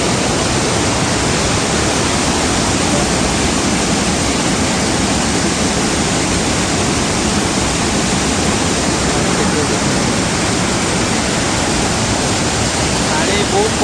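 Water rushes with strong pressure at Panchalingeswar temple, a loud, unbroken roar of falling water filling the scene close by from start to finish.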